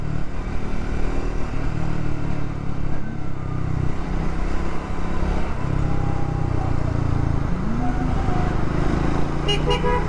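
Evening traffic jam on a road near Pune on the way to Panshet, with a dense steady rumble of cars and motorcycles and repeated horn toots and honks sounding close by for several seconds.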